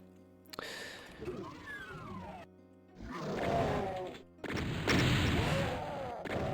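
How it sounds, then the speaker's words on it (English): In Doom, played on the Rifts to Abhorrence map, booming explosions burst out in separate loud blasts with crashing debris and sharp gunfire-like cracks, separated by brief gaps of near silence. "Fun little explosion there."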